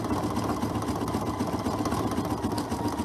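Sewing machine stitching down the edge of an appliqué, a continuous close mechanical whir with a fast even rhythm, steady and alone.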